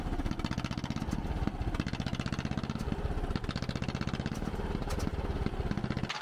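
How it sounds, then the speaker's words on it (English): A D8 dozer's engine cranks over with the fuel shut off, chugging in a steady, loud, fast mechanical rhythm the whole time without catching. "all with the fuel turned off so that it's not gonna start yet, although it is kind of chugging away like it wants to start"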